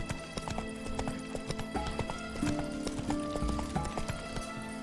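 A video game horse named Roach gallops, its hooves beating a quick, steady clip-clop rhythm close by, with faint game sounds and tones mixed in.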